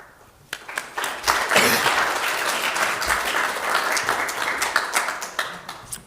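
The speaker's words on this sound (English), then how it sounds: "A warm applause for our first speaker" A conference audience applauds to welcome the first speaker of an OpenStreetMap talk session, the clapping rising quickly to a steady, full burst that holds for several seconds and begins to taper at the end.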